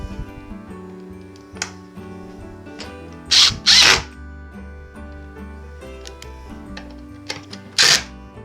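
A power drill drives small screws into IKEA dresser drawer rollers during assembly, with a few short, sharp whirring bursts standing out over low background noise and faint handling clicks.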